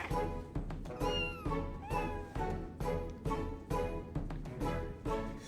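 Cats meow in the video game Final Fantasy XIV, a quick run of about eight rising-and-falling cries in an even rhythm, close and clear.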